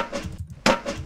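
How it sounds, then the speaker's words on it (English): A banana tossed into a bin lands with a single sharp, knocking thud, preceded by softer rustling handling noises and followed by a brief lingering rattle. "That's me throwing it into the bin."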